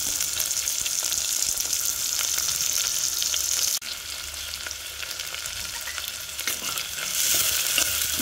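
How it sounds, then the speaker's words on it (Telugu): Sliced onions and green chillies sizzle steadily in hot oil for a dry fish curry, a loud, close, continuous crackling fry with occasional stirring scrapes and no voices. "దీన్ని ఒక 2 మినిట్స్ అలా ఫ్రై అవ్వాలి."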